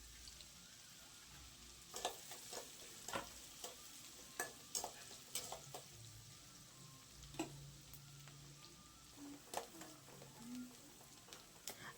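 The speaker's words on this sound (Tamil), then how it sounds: "இப்போ வெங்காயத்தை ஒரு கரண்டி வச்சு வதக்கி விட்டுருங்க." Chopped onions sautéing in a pan as a ladle stirs them, giving a quiet continuous sizzle with repeated scraping and clinking strokes, close and faint with no voices.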